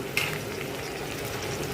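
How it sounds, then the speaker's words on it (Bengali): Chopped onion softens in hot oil left over from frying hilsa roe, with a soft steady sizzle and a brief stirring scrape near the start, no talking. "পেঁয়াজটাকে হালকা নরম করে ভেজে নিচ্ছি"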